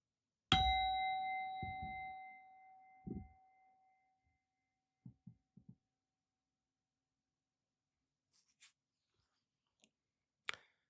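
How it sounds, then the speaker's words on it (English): One meditation bell is struck and rings out clearly, its bright tone fading slowly over a few seconds, followed by a handful of soft scattered clicks and near silence. "There'll be one bell to signify the beginning"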